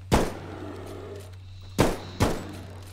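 Gunshots fired at a cocaine-crazed bear in a Bigfoot hunting video game: three sharp, loud reports, one alone and then two close together, over a low steady hum.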